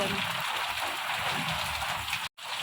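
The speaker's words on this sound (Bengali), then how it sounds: "চলো বৃষ্টি হচ্ছে হোক" Steady rainfall makes a soft, even hiss throughout, fairly faint, with a brief dropout near the end and someone talking over it.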